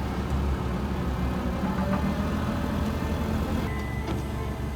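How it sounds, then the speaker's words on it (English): Trucks rumble nearby with a steady, low engine drone, a continuous loud vehicle noise with no voices over it. "New trucks."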